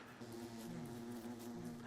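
A bee buzzes steadily in the survival video game Don't Starve, a continuous droning hum held at an even level for the full stretch, with no talking.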